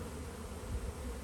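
Buckfast honey bees buzz steadily at the hive, a close, dense drone with no breaks across the short stretch.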